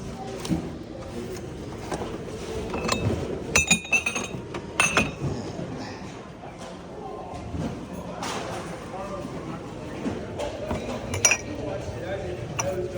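Secondhand glassware, including old stemware, clinks and chinks in the Goodwill bins as pieces are handled, with scattered sharp glassy taps and clusters under steady talk nearby.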